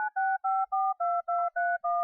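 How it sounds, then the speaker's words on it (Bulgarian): A telephone rings with a rapid string of eight evenly spaced electronic dual-tone beeps, clean and loud, with nothing else in the background. "Някой тапак звъни."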